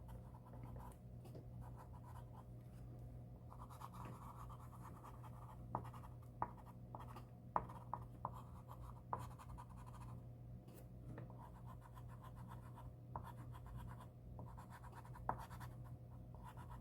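Vintage Grumbacher soft pastels scratch and rub across paper during drawing, a faint, steady dry scraping with occasional sharper ticks of stick on paper, close and quiet with no talk.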